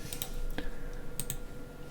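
Typing on a new computer keyboard gives a few scattered clicks and key taps at close range over a quiet background hum, with no speech.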